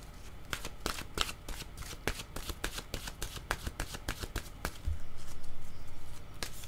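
Oracle cards being shuffled by hand, a steady run of crisp riffling flicks close by, ending in a softer rustling slide.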